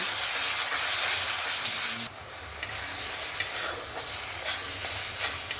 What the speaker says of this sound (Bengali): যে মশলাটাকে আবারও 2-3 মিনিট মতন কষিয়ে নেব।